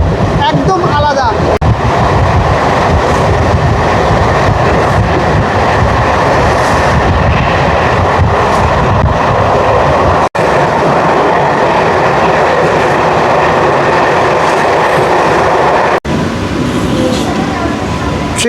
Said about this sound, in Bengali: ট্রেন আসলো একটা স্টেশন